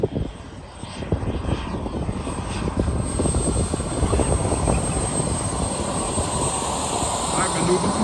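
A Pilatus PC-9 turboprop airplane comes in to land at an air show, its engine roar loud and steady throughout, rising slightly as it passes near, with crowd voices faintly underneath.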